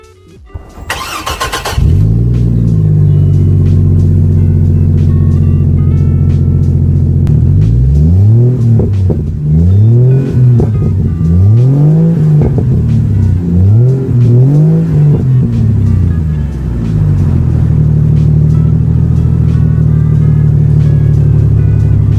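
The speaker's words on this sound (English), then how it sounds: "I ended up getting that MSZ resonator just to kind of tame that loud, high-pitched exhaust noise" A Chevrolet Trailblazer 4.2L engine with an MSZ exhaust resonator starts with a sharp burst, then idles loud and close before several rising-and-falling revs, settling back into a deep steady idle.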